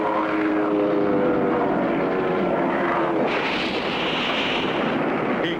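A cartoon propeller plane drones loudly, then a heavy crashing impact hits as it rams into a giant bug, followed by a rough rumbling roar. No one talks.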